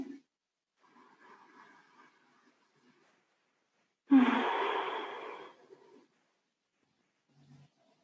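One long, deep exhale during a yoga class, a breathy rush that swells suddenly and fades over about two seconds, close and clear against near silence, with faint murmurs before it.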